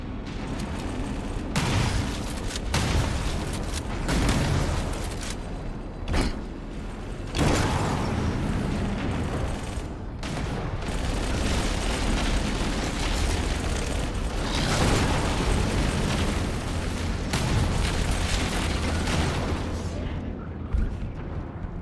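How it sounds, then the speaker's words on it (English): Overloading pulse generator and bursting power conduits in Halo, a long stretch of loud crackling blasts, rumbling booms and mechanical grinding, with sharp bangs marking several distinct hits and no talking. "That did it. The pulse generator overloaded."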